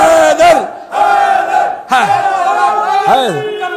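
A large crowd chants the Haidari slogan "Haidar" in loud, repeated, drawn-out calls with swooping pitch and short breaks between shouts. The voices are massed and close, and the chanting fills the clip.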